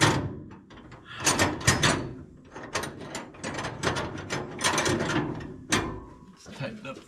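Tightening a part on a 1961 Chevy Viking 60 truck with stuck valves: repeated close metallic ratcheting clicks and clanks in uneven bursts, with someone speaking briefly over the work.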